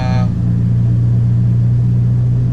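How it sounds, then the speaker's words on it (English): An Alfa Romeo 4C sports car engine drones steadily from inside the cabin, a loud, even low rumble throughout with a brief voice at the very start. "Today I figured we'd take the Alfa on a quick little ride together."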